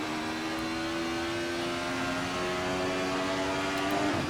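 Simulated DTM touring car engine from a racing game featuring the Alfa 155, BMW M3 and Mercedes 190, a continuous droning whine held steady and slowly rising in pitch, loud and alone without talk.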